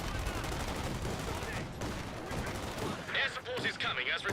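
Gunfire crackles through a Company of Heroes 2 match as infantry fire on Panzer Grenadiers near a Cromwell tank, a dense, continuous burst of small-arms shots with a caster talking over it.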